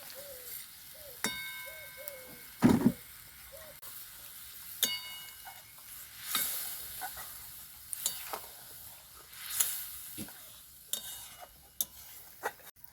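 Chilli powder and spices being sautéed in a pan for jackfruit kofta curry in a rustic village kitchen: scattered scraping stirs and soft sizzling bursts, with a few faint birds calling in the background.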